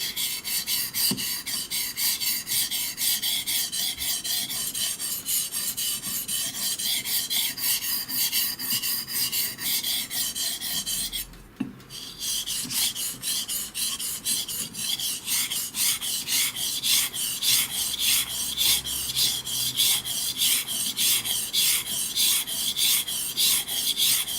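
A Japanese santoku knife is sharpened on a whetstone, the blade rasping in quick, regular back-and-forth strokes, close and fairly loud, with a brief pause midway before the strokes resume.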